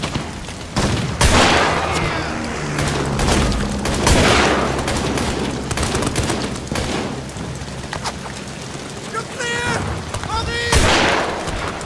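Gunshots at German soldiers in the horror video game Amnesia: The Bunker boom heavily and echo, several loud reports spaced through a dense, rumbling soundscape with a voice heard briefly.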